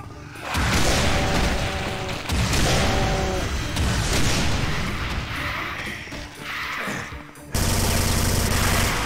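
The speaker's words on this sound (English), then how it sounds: "Yes, I will use chain gun on lost souls." Rapid chain gun bursts and explosive booms fill the scene in Doom 2, dense and loud throughout with a sharp rise in intensity near the end.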